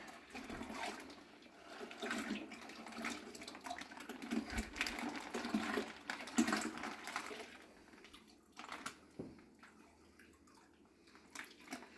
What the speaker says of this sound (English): We'll rinse that bag.